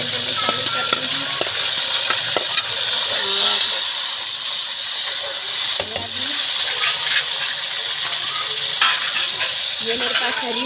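Three tomatoes go into browned onions frying in a pot for vegetable biryani, and a loud, continuous sizzle and hiss fills the scene, broken by scraping stirring clatter.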